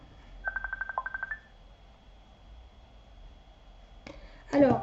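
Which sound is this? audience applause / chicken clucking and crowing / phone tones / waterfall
phone tones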